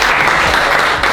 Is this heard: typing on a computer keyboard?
no